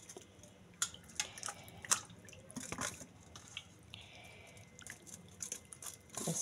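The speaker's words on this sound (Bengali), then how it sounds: "ভালো করে মাংসটাকে প্রথমে ধুয়ে নিলাম" Raw meat pieces are rinsed in water in a pot while making restaurant-style biryani. Faint splashes and drips come in irregular bursts, with scattered wet clicks and a soft running hiss throughout.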